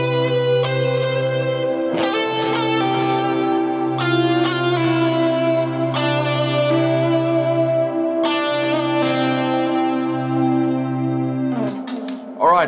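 Electric guitar with distortion, chorus and reverb plays a pulsing low drone under a slow melody of picked notes that move from tense tones to restful ones, each attack ringing out, ending with a brief strum and no talking.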